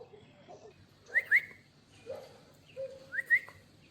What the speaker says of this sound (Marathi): बुलबुल आहे हा, खूप शाळा असतो हा बर्ड.